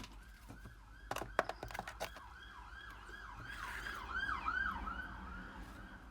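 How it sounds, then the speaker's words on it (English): An ambulance passes outside an open window, its wailing siren rising and falling repeatedly and growing louder as it nears, along with faint road traffic and a few indoor knocks. "Sorry about the ambulance going past."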